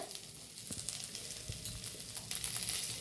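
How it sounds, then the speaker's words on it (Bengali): Potato, carrot and beetroot fry in a pan for a vegetable curry, giving a steady close sizzle with occasional stirring scrapes throughout. "এই সুন্দরভাবে আলু গাজর বিট ভাজা হয়ে গেছে"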